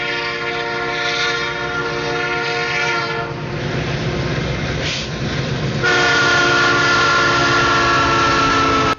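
An SD75 diesel locomotive rumbles close by with a sustained, blaring horn chord, steady engine drone and wheel noise, the horn cutting out briefly midway before returning louder.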